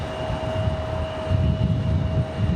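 A Frontier Airlines airliner arrives at Raleigh-Durham airport in gusty wind, a steady rumbling engine drone with a thin whining tone, moderately near and unbroken over a short stretch.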